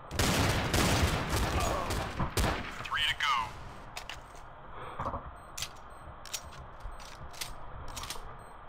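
Counter-Strike: Source gunfire against bots opens with a dense burst of rapid automatic shots, then thins to scattered single cracks and metallic weapon clicks, with faint game sounds between them.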